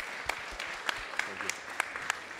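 Audience applause at the European R&I Days 2024 conference, faint and distant, a soft wash of clapping with a few sharper individual claps standing out.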